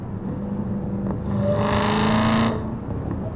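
Supercharged Dodge Hellcat Redeye accelerating on a freeway, engine note rising into a brief louder surge with supercharger whine before easing back, heard from inside the car with no talking.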